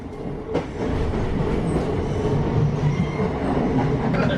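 From inside a moving passenger train comes a steady rumble of wheels on rails, with a rhythmic clatter and a faint squeal, and nobody speaks.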